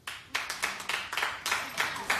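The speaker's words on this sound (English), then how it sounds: "Clap if you care about reading it." A small studio audience at a daytime talk show claps in short, uneven bursts. Several separate volleys of hand claps come one after another, moderately loud, with no steady roar.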